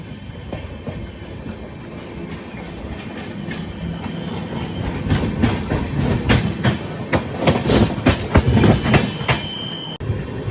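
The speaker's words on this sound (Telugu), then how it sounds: "ఆ ట్రైన్ రెండు ప్యారలల్ రన్ అయితే అవుతున్నాయి." Two Pinakini Express trains run side by side, giving a loud, close clickety-clack of wheels over rail joints with brief squeals, the rhythmic clatter building toward the end.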